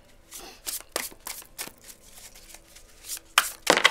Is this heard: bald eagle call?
no